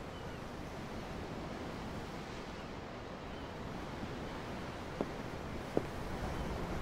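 Ocean waves wash in a steady, broadband surf wash with a faint wind hiss, continuous and moderately quiet, in the Tales of Arise game, with two brief small clicks near the end.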